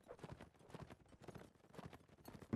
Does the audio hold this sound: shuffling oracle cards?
no